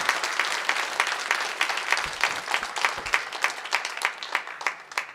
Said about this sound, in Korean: 힘찬 박수로 교수님을 환영해 주시기 바라겠습니다.